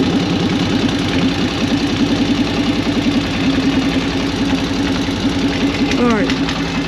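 Flathead engine idling with a steady rhythmic lope, a metallic tapping and exhaust rattling against the cylinder throughout, close and loud, with a brief squeak near the end.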